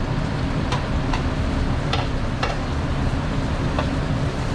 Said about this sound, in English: Right now, we're just trying to brown, get a little color to our saute, basically our mirepoix